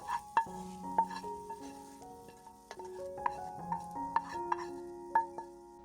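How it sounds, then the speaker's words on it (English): Potatoes being stirred into sautéed onions for a Turkish borek filling, with repeated clinks and scrapes of a utensil against the bowl or pan in an uneven rhythm, close and clear with no talking. "Mix the potatoes with the sautéed onions"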